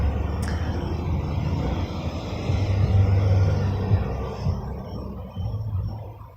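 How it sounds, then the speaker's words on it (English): Street traffic rumbles past nearby, with a low engine drone swelling as a vehicle passes and then fading, plus a faint short high tone near the start. "Plus there's a lot of traffic here."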